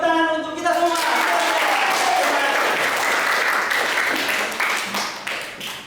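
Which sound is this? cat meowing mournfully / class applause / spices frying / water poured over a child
class applause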